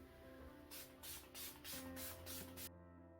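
Milani Make It Last Original setting spray misted from its pump bottle: about six short, sharp hissing bursts in a quick, fairly even rhythm, close up, over a quiet room hum.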